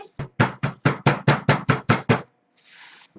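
A hammer crushes biscuits for a strawberry tart base, delivering about ten sharp, evenly spaced thuds in a steady rhythm, close and loud, followed by a brief soft rustle.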